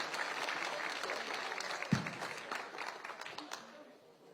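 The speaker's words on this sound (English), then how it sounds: "show your love, and give a round of applause" Steady crowd applause at an arm wrestling event, a dense wash of many hands clapping at moderate distance, fading slightly toward the end.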